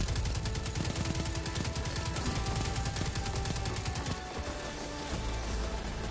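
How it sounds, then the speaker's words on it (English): Dense, rapid gunfire from the video game Destiny, with many shots firing in a steady stream at close range for several seconds before easing slightly near the end. "Many bullets."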